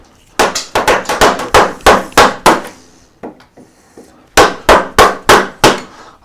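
A carving gouge is driven by mallet blows into wood while bosting in a snail relief: sharp, close, evenly paced knocks in a run of about ten, a brief pause, then another quick burst.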